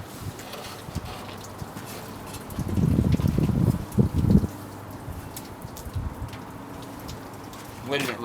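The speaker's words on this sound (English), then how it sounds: "Letting it rinse the dirt out of it." Water runs and splashes while rinsing dirt out of a Y strainer rock trap on a T6 aircraft engine, a steady wet hiss with a louder gushing burst near the middle and quieter trickling around it.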